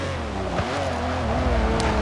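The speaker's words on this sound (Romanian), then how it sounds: "sunetul mașinilor." Race car engines roar continuously in the Forza Street video game, a loud, steady mechanical drone with gear-shift pitch sweeps and a brief tire-squeal accent, no voices over it.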